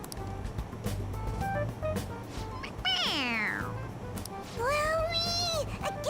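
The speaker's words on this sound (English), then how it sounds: "It meows when you press on its head." A stuffed toy cat in the game Persona 5 Royal gives two rising-and-falling meows when its head is pressed, heard over game music with a voice murmuring underneath.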